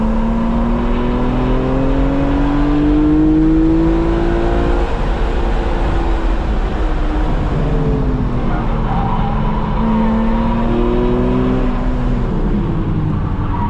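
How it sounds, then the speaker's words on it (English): A BMW E46 M3 with SMG gearbox and CSL intake drones and surges loudly from inside the cabin, its pitch rising and falling through gear changes as it accelerates around a track. "That CSL intake sounds incredible on this."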